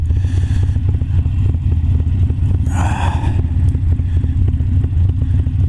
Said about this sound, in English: There's a lot more bikes coming through now